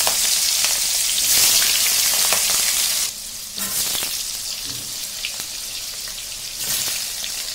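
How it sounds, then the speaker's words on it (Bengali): Loud, steady sizzling of barramundi (bhetki) fish pieces frying in hot oil in a wok, with a brief dip partway through and occasional stirring crackles, close up with no talking. "দেখো এবার মাছ কড়াই দিচ্ছি"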